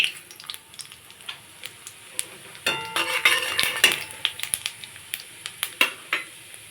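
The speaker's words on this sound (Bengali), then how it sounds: "এখন মাছ ভাজা তেলের মধ্যে দিয়ে দেবো গোটা জিরে," Whole cumin seeds sizzle in hot oil left from frying fish while metal utensils clink and scrape against the pan in quick, irregular taps.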